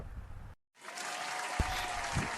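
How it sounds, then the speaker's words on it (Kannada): Applause from an audience for a schoolgirl who has just sung a patriotic song, broad steady clapping after a brief cut to silence, with a sharp knock partway through. "ಎಲ್ಲರೂ ಒಂದ್ಸಲ ಚಪ್ಪಾಳೆ ಹೊಡಿರಪ್ಪ ಹುಡುಗಿಗೆ"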